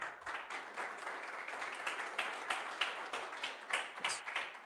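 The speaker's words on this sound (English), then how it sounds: "So let's have a huge round of applause." Audience applause at a EuroSciPy conference session, a steady patter of many hands clapping for about five seconds, moderately loud and fairly close, with no talking over it.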